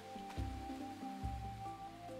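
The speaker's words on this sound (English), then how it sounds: "I don't want you out in this rain." Rain patters steadily in the video game Roots of Pacha, a soft, even wash under quiet game music and no speech.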